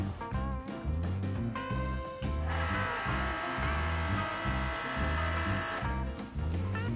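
A pressure washer runs steadily with the wand trigger held open while it pumps antifreeze through, a loud rhythmic mechanical pumping drone that carries on throughout.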